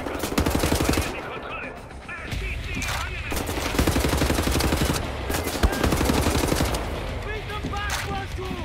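Sustained automatic and rifle gunfire in a Wolfenstein: The New Order prison breakout firefight, with rapid bursts and sharp shots overlapping almost continuously, loud and close, with a brief lull near the start and shouted voices mixed in.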